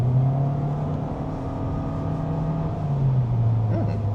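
A 2026 Toyota Vios GR-S under full throttle in Power Mode, its engine drone steady and loud inside the cabin, the pitch holding then dipping slightly near the end as the car keeps pulling.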